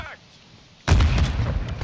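In a Call of Duty Gulag match, a video game grenade goes off: a quiet moment broken by one sudden loud blast with a rumbling tail.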